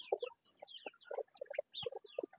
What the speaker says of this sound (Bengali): এই যে আমার ডিম পাড়া মুরগি, ডিম পাড়া মুরগিকে দিচ্ছি, দেখুন কতটা পছন্দ করলে এই খাবারটা ওরা খায়